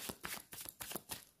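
Tarot cards being shuffled in a few soft, rhythmic riffling bursts about every quarter second, faint and close with no talking.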